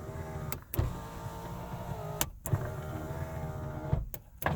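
Power windows on a 1989 Mazda RX7 Turbo II, heard from inside the car, with a steady electric motor whine broken by several clunks as the glass starts and stops.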